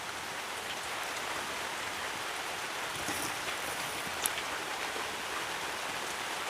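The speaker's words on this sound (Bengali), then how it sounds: "এই দেখুন ঝোলটা খুব সুন্দরভাবে ফুট চলে এসেছে" Curry gravy at a rolling boil in a pan, with fried homemade papaya paneer going in; a steady, close bubbling hiss continues throughout, with one brief sharper pop near the end.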